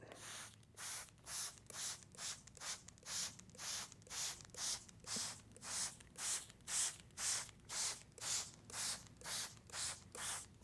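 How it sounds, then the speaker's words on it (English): Water sprayed from a pump bottle onto taped watercolor paper: around twenty rapid, even hissing squirts in a steady rhythm, close and alone. "And then I just spray the top."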